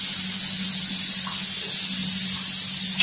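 A pressure cooker full of beef vents steam in a steady, loud hiss that holds without a break, with a low hum underneath.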